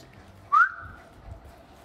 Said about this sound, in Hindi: मैंने सीटी मारा तो वो पहले घूमेगा ऐसा किसने सीटी मारा